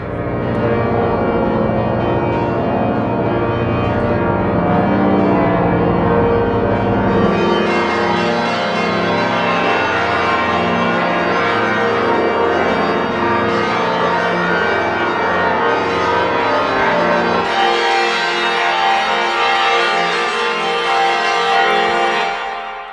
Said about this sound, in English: let's listen to it, to this eerie bells patch.